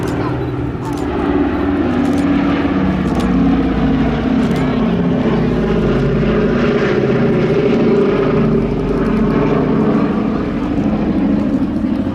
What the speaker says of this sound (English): Powered by 4 Wright Cyclone engines.